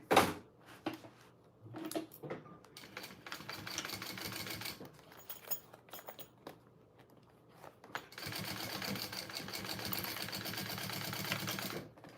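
A sewing machine bastes the gusset and lining of a bowler bag, running in a few close, fast stitching bursts separated by pauses and small handling clicks, with a long steady run at the end.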